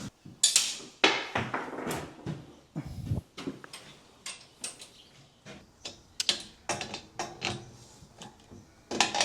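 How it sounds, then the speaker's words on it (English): Bolts fastening the frame base section onto a MudMixer base plate make irregular metallic clicks, ratcheting ticks and clanks, close and intermittent across several seconds. "next we're going to position the frame base section 20 on the mixer base plate and secure it with 4 bolts"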